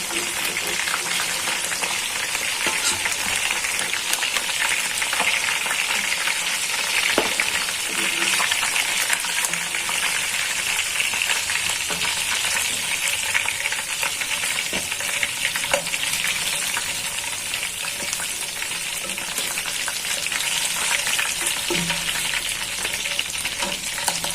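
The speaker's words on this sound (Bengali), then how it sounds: "আগে থেকে হলুদ মরিচ লবণ মাখানো দেশি মুরগাটা বাইজা নিতেছি" Country chicken rubbed with turmeric, chili and salt fries in a pan with a loud, dense, unbroken sizzle and crackle that runs throughout, with faint scattered clicks and no talking.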